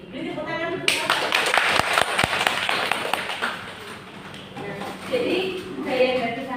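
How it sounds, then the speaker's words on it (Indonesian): A classroom breaks into scattered applause, a loose, moderately close patter of hand claps that fades and then picks up again, with students' voices talking underneath. "Beri tepuk tangan untuk Elsa."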